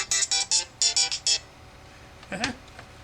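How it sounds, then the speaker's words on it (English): A phone ringtone for an incoming call plays as a loud, evenly paced series of bright electronic bursts in two groups, followed by a brief rising tone. "Phone call."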